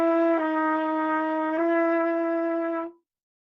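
A single sustained wind-instrument line moves through a chromatic scale in two-note triplet groupings, stepping down a half step and back up, heard alone, close and clear, with two small note changes before fading out after about three seconds.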